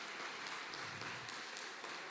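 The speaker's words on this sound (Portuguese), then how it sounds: "Agora aplauda ao Senhor." Congregation in a church applauding, a soft, steady patter of many hands clapping that sounds distant and fairly faint, continuing evenly without a break.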